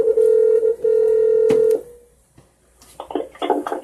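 A telephone dials out a call: a steady low tone broken by a brief gap, a sharp click, then a short burst of quick touch-tone beeps, loud and close.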